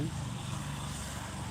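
A motor engine drones steadily throughout, a continuous mid-loud rumble like a motorbike going by nearby.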